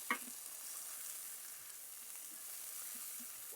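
Tomatoes sautéing in a pan give a faint, steady sizzle with one brief utensil knock at the start.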